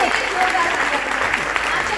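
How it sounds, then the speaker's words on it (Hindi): Loud, dense applause fills a hall at a Vestige business program event in Agra, a continuous wash of many hands clapping together without pause. "मैं चाहूंगी बाकी सभी लोग जोरदार तालियां बजाएं"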